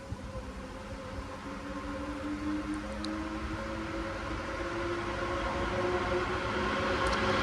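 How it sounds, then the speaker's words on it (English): Electric train traction motors wind up at Shotton station, a steady rising whine with layered tones over a broad rumble that grows slightly louder, with no talk. "There it is, I can hear the motors winding up."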